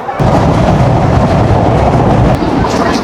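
The Betna Express train running from Khulna to Benapole, heard from on board as a loud, continuous rumbling roar with faint rhythmic rattling that holds steady throughout.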